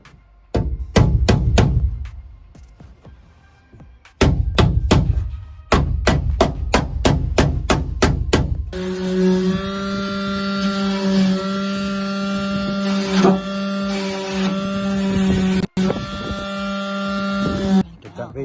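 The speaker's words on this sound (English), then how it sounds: "Yeah, it is jigsaw." A jigsaw cuts through a VW T4 van body panel. The first part is a run of sharp, evenly spaced knocks, then the saw gives a steady, loud buzzing whine for about ten seconds with a brief break.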